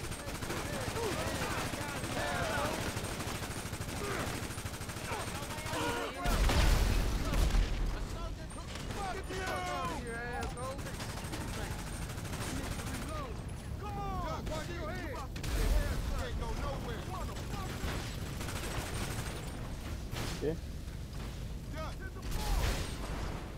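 Gunfire in GTA Online during a chase after bikers: bursts of shots and a few heavier booms over continuous engine and game noise, with voices talking over the action.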